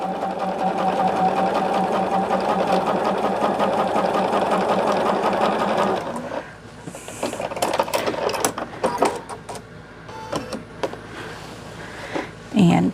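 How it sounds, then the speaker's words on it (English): A sewing machine stitches quilt binding along a diagonal line, a steady close whirring hum for about six seconds, then stopping to leave handling clatter and rustling. "what I'm going to do is sew on that diagonal line."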